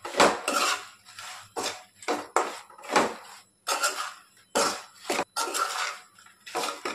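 Egg pickle mixture tipped into a pot and stirred, Telangana style: close clinks and scrapes of a metal spoon against the pot in irregular bursts, with wet shuffling between them and no talk.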